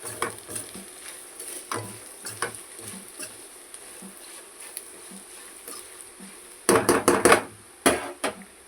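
Spoon or spatula stirring a salt and chili powder spice mixture in a pan for bitter gourd fry, quiet scattered scrapes that turn into a louder burst of clattering scraping near the end.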